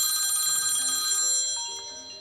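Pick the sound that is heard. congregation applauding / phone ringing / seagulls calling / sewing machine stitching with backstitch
phone ringing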